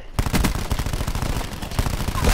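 Dense, rapid automatic gunfire from many weapons at once in the video game Black Ops 4, loud and continuous with overlapping bursts throughout.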